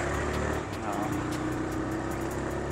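Steady road traffic and engine rumble roll on continuously while overtaking an auto rickshaw on national highway NH 44 on a clear morning, a dense drone of passing vehicles with no clear breaks.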